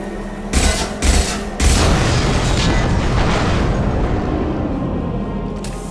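Weapon fire and a heavy explosion in the video game Mass Effect 2: several loud booming blasts in quick succession, then a long rumbling roar that slowly fades.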